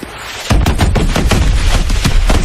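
Helicopter gun run in Call of Duty: Advanced Warfare, a loud continuous barrage of rapid automatic gunfire with heavy low-end thumps, dense and close, no voices over it.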